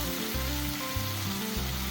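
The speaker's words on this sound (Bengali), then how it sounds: "এটা বাস এবার ভাজা হতে থাকবে আস্তে আস্তে" Steady sizzling of fish oil frying slowly in a pan, continuous and close, with a low hum underneath and no talking.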